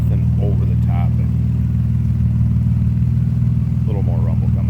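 Steady low exhaust rumble from the rear of an idling 1999 Plymouth Prowler convertible, even and continuous throughout, with someone talking briefly over it near the start and again near the end.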